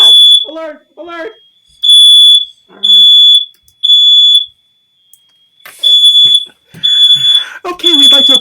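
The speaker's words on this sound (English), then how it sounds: "Sorry, smoke detector." Smoke detector alarm going off indoors, loud high-pitched electronic beeps in repeated bursts, alternating with people talking and shouting over it.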